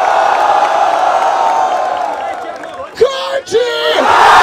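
Crowd cheering, whooping and shouting at a freestyle rap battle semifinal in Barueri, a loud sustained roar broken by two sharp yells near the end.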